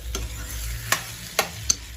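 Tomatoes sauté in hot oil in a pan for a pizza sauce, a soft steady sizzle with three sharp utensil clicks or scrapes from stirring, and no voices.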